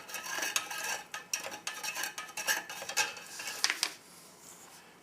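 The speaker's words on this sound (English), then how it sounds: "You can feel and hear scraping around on the bottom of that cup, which is the granules that haven't dissolved yet" A metal spoon stirs and scrapes around the bottom of a cup holding undissolved granules of an MRE drink mix, giving a quick series of close, gritty clinks and scrapes that fade near the end.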